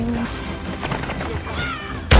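Video game battle gunfire, with a Lockwood 300 in use: muffled shots and rumbling under voices and game noise, then one loud, sharp blast right at the end.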